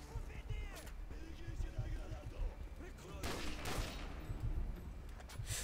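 A Dragunov sniper rifle fires in a shooter video game: several sharp gunshots scattered through a busy battle soundscape, with louder blasts near the middle and someone talking over the action.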